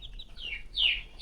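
Hens from a flock of fifteen young laying hens in their seventh month cluck and call, with two short, fairly close bursts rising over a quiet background.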